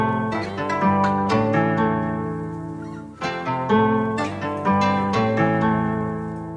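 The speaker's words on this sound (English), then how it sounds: "I chopped it up a little bit, slowed it down a bit, and it sounds like this now" A chopped, slowed-down music sample loop from Looperman, arranged in FL Studio, plays as dense layered sustained chords with choppy rhythmic cuts and a brief break near the middle, loud and steady with no talking.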